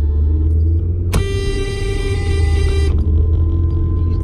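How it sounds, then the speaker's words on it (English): A car horn blares in one steady, sustained honk lasting nearly two seconds, loud and close over the low rumble of an idling car interior. "Listen to her blowing her horn."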